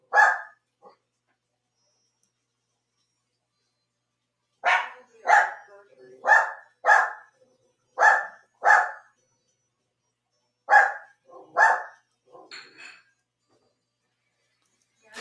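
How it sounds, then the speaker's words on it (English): A small dog barks in short, sharp yaps, mostly in quick pairs with silent gaps between, close and fairly loud against an otherwise quiet background. "it sounds like a toy dog about to do a backflip"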